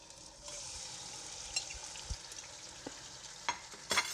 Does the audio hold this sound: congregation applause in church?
no